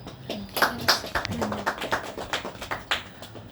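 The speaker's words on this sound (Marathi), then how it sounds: "आता टाळ्या तर खूप वाजलेल्या आहेत" A small group clapping for a birthday, uneven close claps with a few louder hits, while people talk over them.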